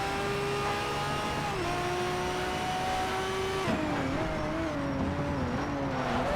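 Pagani Zonda R race car engine in Need for Speed: Shift, a sustained high engine whine holding steady pitch, then dropping and wavering as the revs shift, heard continuously at moderate level from inside the race.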